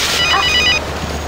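A mobile phone rings with a short burst of bright electronic trilling tones, close and loud over a room hum.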